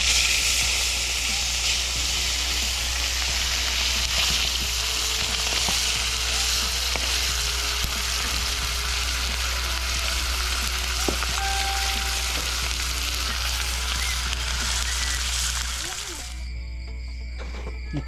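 Freshly caught fish frying for a meal, a loud, dense, continuous sizzle and hiss heard up close that carries on steadily before dropping away abruptly near the end.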